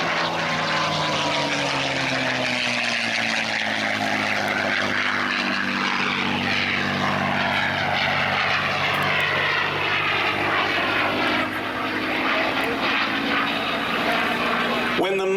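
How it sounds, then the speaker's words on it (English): A P-51C Mustang with a Rolls-Royce Merlin engine flies at the 2023 Tinker AFB air show, its propeller drone loud and throaty, rising and falling in pitch as it sweeps past overhead. "When the Mustang became outfitted with a Rolls-Royce Merlin engine, its performance equaled anything that was in the sky at the time"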